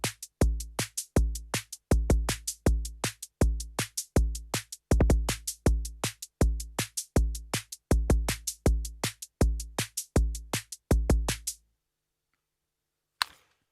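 A Korg Volca Drum plays a steady programmed beat pattern with the kick drum removed, leaving crisp, evenly spaced percussive hits in a repeating rhythm for about eleven seconds, then stopping, with one short click near the end.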